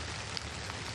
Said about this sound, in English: Shep, the rain is really starting to come down pretty hard here